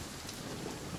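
Steady rain in The Forest video game, a faint, even hiss of falling drops with a low rumble beneath and no voices.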